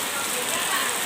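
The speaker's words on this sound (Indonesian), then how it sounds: "Ini langsung disambut hujan deras ini." Heavy local rain pours down at an outdoor gathering in Simeulue, a dense, loud, continuous hiss of drops striking surfaces that fills the brief moment.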